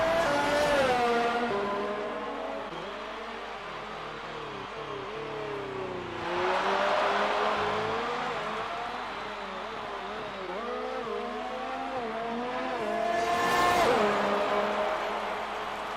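An F1 race car in a Bahrain video game race whines past at high revs as it drives into the pits, engine pitch rising and falling in several sweeps with other cars humming nearby.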